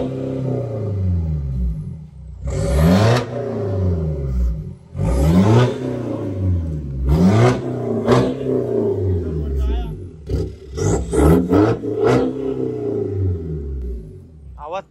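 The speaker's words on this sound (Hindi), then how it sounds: "BMW है दोस्तों, BMW की फोर व्हीलर। इसका आवाज सुना रहे अपने को सर?" A BMW car engine revs in a series of rising and falling bursts, about half a dozen throttle blips close by, each swelling loudly then dropping back, with voices talking in between.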